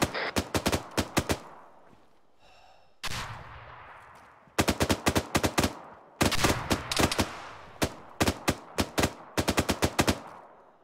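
Bursts of machine gun fire lay down suppressive fire in a combat game, sharp rapid volleys in several clusters separated by short lulls, loud and close with no talk.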